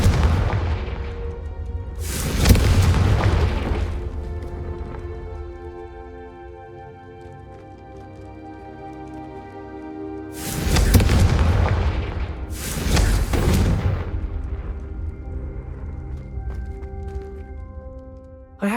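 Confringo explosion spell blasts in Hogwarts Legacy: two pairs of loud booming detonations a few seconds apart, each fading into a long ringing, sparkling magical tail with a tonal hum underneath.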